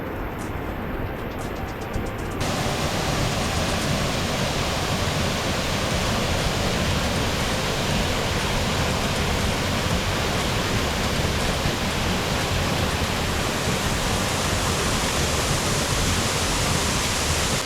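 A waterfall in Panama roars as a dense, steady wash of falling water, close and loud, becoming fuller after the first couple of seconds and continuing unbroken with no voices.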